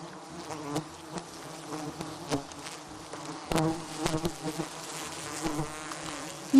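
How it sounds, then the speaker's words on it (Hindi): Wild honey bees buzz in the jungle, with several insects droning close by in overlapping, rising and falling hums and sudden louder passes near the microphone. "कुछ एक मधुमक्खियां मानो टोह लेने निकल पड़ती हैं।"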